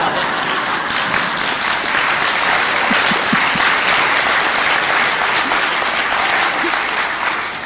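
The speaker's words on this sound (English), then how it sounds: "That's a whole lot more applause than I" A school-auditorium audience applauds steadily and loudly after a sung performance at a centennial celebration, dense clapping filling the room from start to finish without a break.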